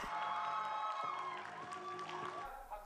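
Spectators in the seating area cheer before a comedy performance begins. The crowd noise is fairly faint and distant, a sustained roar of shouts and whoops with a little clapping, holding steady for the whole stretch.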